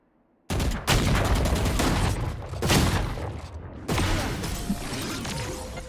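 Shotgun blasts and heavy gunfire in a Valorant tournament match, loud and booming, with a sharp first shot followed by sustained roaring fire and crashing impacts.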